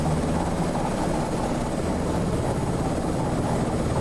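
A Sikorsky S-76C helicopter passes over the North Sea in MSFS 2024, giving a steady, loud rotor and turbine roar that holds evenly throughout with no talk.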